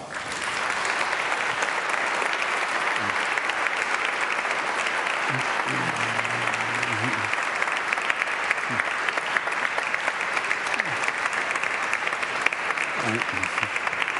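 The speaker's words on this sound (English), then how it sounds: "let's give a big round of applause" Steady applause from an audience at a community meeting, continuous and even in loudness, with a few faint low voices or thumps underneath.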